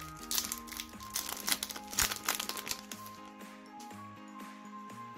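A Yu-Gi-Oh booster pack wrapper is crinkled and torn open up close, with sharp crackling bursts over a quiet musical background.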